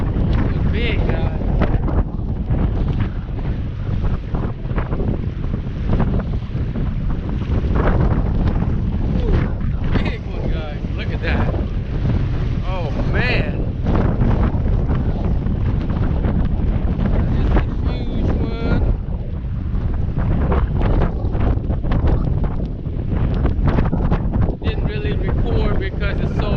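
Strong wind buffets the microphone at a lakeside bass fishing spot, a loud, continuous roaring rumble throughout with gusty bursts.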